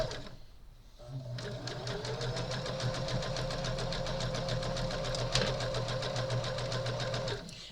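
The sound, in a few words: sewing machine stitching a quilt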